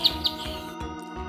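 A small sparrow gives two sharp, bright chirps at the start of a children's song, over a steady musical accompaniment.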